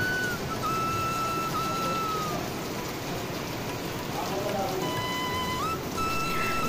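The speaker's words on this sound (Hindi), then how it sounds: "ये जो है मॉर्निंग की शुरुआत आप देख रहे हो घमाघोर बारिश से हुई है" Heavy morning rain pouring steadily as a dense, even hiss, with faint thin whistling tones drifting over it; no talk.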